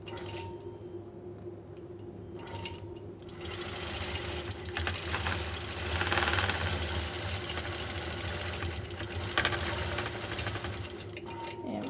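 A sewing machine stitches down a side strip on a quilt-as-you-go block, a continuous close mechanical hum and rapid needle chatter that speeds up midway and runs steadily to the end.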